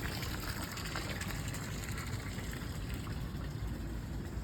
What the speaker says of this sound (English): So today I'm just pumping new water in with the hose, have the hose turned up really high